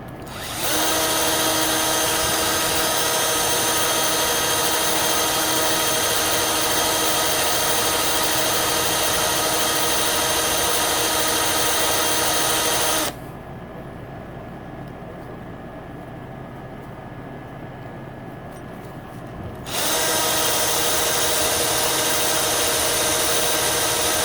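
A high-speed power tool grinds the dome of a YZ250 cylinder head, a loud continuous whine that drops to a lower, quieter hum for several seconds midway and then returns at full pitch, with no talking.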